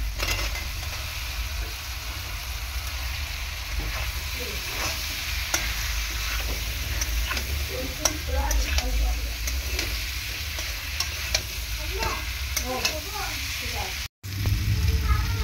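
Potatoes sizzle and fry steadily in a pan for a soybean curry while being stirred, with scraping stir strokes repeating over a continuous close hiss and a brief cutout near the end.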